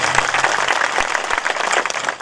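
An audience at a religious gathering applauds to welcome a guest of honour, a dense, continuous patter of many hands clapping, moderately loud and sustained.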